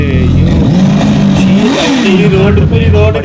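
A Kawasaki ZZR 1400 superbike with its 1400cc engine revs loudly up and back down, close by, a steady rumbling roar with a rising and falling pitch, with some background voices mixed in.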